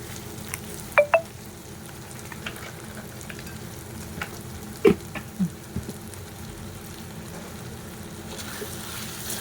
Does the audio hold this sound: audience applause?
no